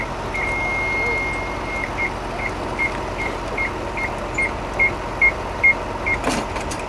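A mini crawler crane's tilt warning alarm beeping while the machine leans sideways, a long tone followed by a regular series of short, evenly spaced beeps over a steady engine and outdoor hum.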